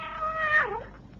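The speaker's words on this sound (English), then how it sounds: "it's Sandy, your uncle's old tomcat" An old tomcat gives a single clear, drawn-out meow that rises and then falls away, fairly close and on its own against a quiet background.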